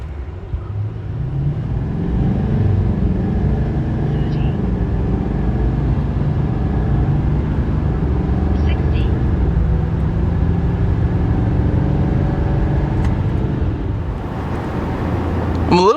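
2024 Chevy Silverado 3500 pickup accelerates in a performance run, its engine droning loud and steady from inside the cab as the pitch rises through gears over most of the stretch, easing off near the end.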